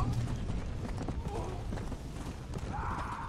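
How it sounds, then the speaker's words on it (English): Galloping horse hooves from the video game Red Dead Redemption: Undead Nightmare, a flaming horse in a fast steady clatter under game sounds, with a voice speaking. "I'm on a horse made of fire."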